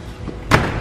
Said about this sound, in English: You just slammed the door.